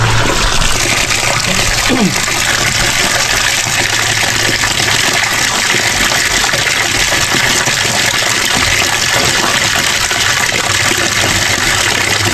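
Water rushes down from a home water pump's pressure tank, a steady, loud broadband gush holding evenly throughout with a low hum underneath.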